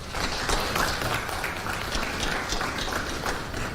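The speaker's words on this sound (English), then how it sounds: "Let's give her another round of applause" Steady applause from an audience at a talk on nuclear power and energy planning, moderately loud, continuous clapping with no clear speech.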